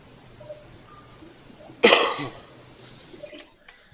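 A single sharp, close cough bursts out of near silence, followed by a short breathy tail and a faint second throat sound.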